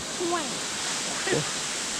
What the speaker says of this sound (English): this is ห้วยหลวง waterfall